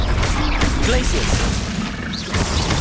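Glacius ice spell being cast in Hogwarts Legacy, a dense burst of crackling, shattering magical noise that holds steady for about three seconds with a brief dip near the end.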